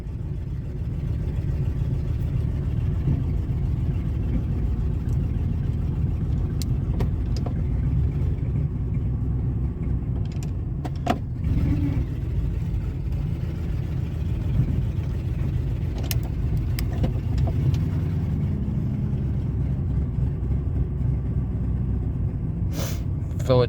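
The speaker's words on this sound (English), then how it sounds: "So it chugs in all park, reverse, neutral, and drive." The engine of a 2000 Ford F150 pickup chugs while idling in gear, a steady rough low rumble throughout with a few faint clicks, recorded close and continuous.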